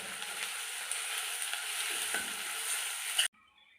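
Garam masala, turmeric and coriander powder being stirred into bottle gourd in a hot pan, a steady close sizzle with light scraping that runs evenly, then cuts off abruptly near the end.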